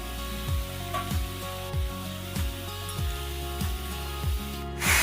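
Chopped potato and shola kochu (taro) frying in hot oil for a kochur dalna, a steady sizzle broken by regular soft knocks or stirs about every half second, growing louder in a burst at the end.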